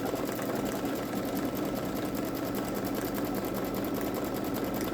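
A Babylock Solaris Vision embroidery machine stitches onto metallic vinyl, its fast even whirring running steadily and close with no talking.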